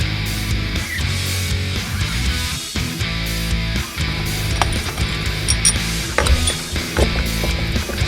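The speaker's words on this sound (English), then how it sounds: "I'm going to be struggling at taking off these old frozen screws that haven't been taken loose in a long time." Old frozen screws on a Suzuki GS850 motorcycle clutch are worked loose with a tool, giving repeated close ratcheting clicks and metallic scrapes in an uneven rhythm.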